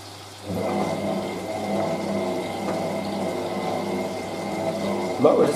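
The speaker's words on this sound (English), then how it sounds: "Motor doesn't seem to like going anti-clockwise sometimes." A Hotpoint 9530W Electronic 1000 Plus washing machine, its motor hesitating when turning anti-clockwise, turns the drum during a towel wash with a steady low hum and whir, close and moderately loud, ending in a brief clunk.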